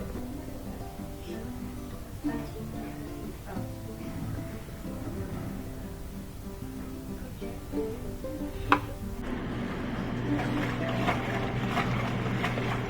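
A Maytag washing machine running its agitation cycle, a steady churning, sloshing drone with rhythmic mechanical swishes that grows louder and rougher near the end, close and continuous with no talking.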